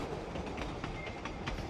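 A train runs on rails toward Machu Picchu in Peru, a steady rumbling ride with faint rhythmic clicks of the wheels over the rail joints, continuous and mid-distance with no talking.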